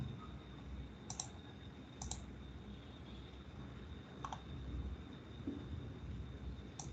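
Four sharp, quiet computer mouse clicks spaced about a second apart in a quiet room, each a crisp tick over a faint steady hum.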